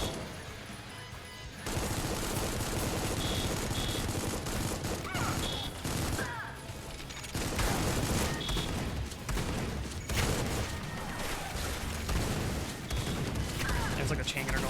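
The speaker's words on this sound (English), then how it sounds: "There's like a chain gunner going nuts." A chain gunner firing nonstop in the video game Supplice, dense rapid gunfire and explosive bursts roaring loudly throughout, with a player talking over it.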